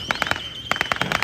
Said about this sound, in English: That was the third mortar.